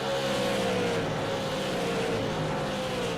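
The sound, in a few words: race car driving on track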